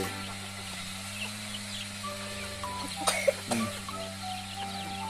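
Backyard chickens cluck in short, soft calls over a steady low hum, with a child's brief coughs popping up near the end.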